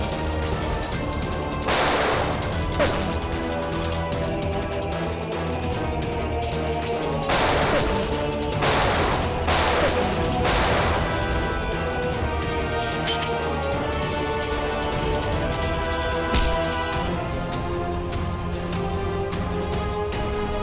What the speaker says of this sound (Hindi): बहुत जल्द गोलियां खत्म हो जाएगी।